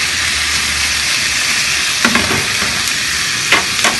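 Beef steak frying in a pan, a loud, dense, continuous sizzle right up close, with a few brief clicks and scrapes near the end.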